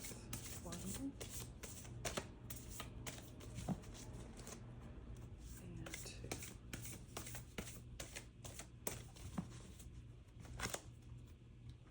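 Tarot cards are shuffled by hand with rapid, repeated riffling and slapping sounds that continue steadily throughout, close and moderately quiet, with faint room hum beneath and no talking.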